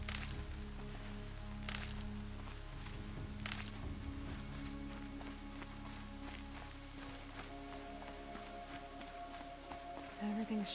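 Steady rain patters across the ground in the Horizon video game, a continuous wash of drops with a low ambient drone and a few brief sharper bursts, no talking.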